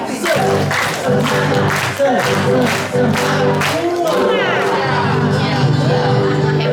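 A church retreat audience claps along in a rhythmic cheer, with loud, quick clapping mixed with crowd voices and whoops, and a speaker's voice over it.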